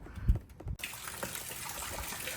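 Rainwater gushes and splashes steadily out of a rain gutter during a rainfall, beginning abruptly after a short muffled thump and continuing as an even, close rushing wash.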